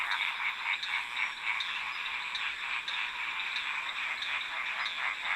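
A chorus of Madagascan gold frogs calls together in a dense, rapid stream of overlapping high chirps and pulses, loud and sustained over a faint background hiss.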